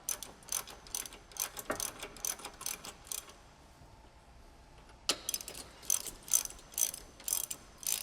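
A ratchet with a deep socket loosening bolts on an S197 Mustang, rapid clicking bursts close by, a brief pause, then more quick ratcheting strokes.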